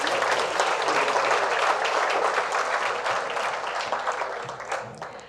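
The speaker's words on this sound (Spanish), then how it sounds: "Aplausos para estos nuevos socios." Audience applause at a monthly business association meeting welcoming new members, a dense steady clapping that holds loud for several seconds and then gradually thins and fades toward the end.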